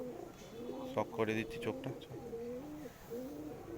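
A Kaldoma pigeon, a fancy breed kept by a fancier, coos in low, rolling phrases close by, repeating several times under steady talking from a man.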